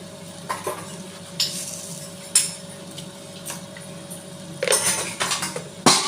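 Clattering scrapes and knocks of a utensil stirring elephant foot yam curry in a pan, in short bursts over a low steady hum, clearest near the end.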